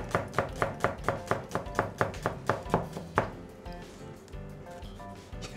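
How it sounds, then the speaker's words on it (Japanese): A kitchen knife chops on a cutting board in a fast, even rhythm of about a dozen crisp taps, close and clear, before giving way to softer, irregular kitchen clatter. "やっぱりこう包丁の音がいいね、トントントントントンとリズミカルに。"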